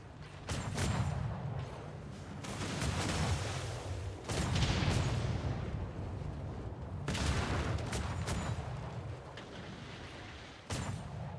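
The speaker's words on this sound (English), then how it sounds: "Medium cannons are in range. Fire when ready." Medium cannons fire in a roleplay video game, booming in a string of heavy, rumbling blasts at irregular intervals, loud and close, with some blasts overlapping.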